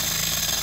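A power tool zaps U-bolts off at a remote off-grid cabin, a short, loud, close burst of rapid rattling hammering.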